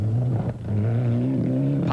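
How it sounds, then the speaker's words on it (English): Rally car engine at the 1998 SCCA Wild West Pro Rally, held on throttle with a steady droning note and traction control misfiring it into pops, loud and close throughout. "Popping is an advanced traction control that misfires the engine if wheel slip is detected."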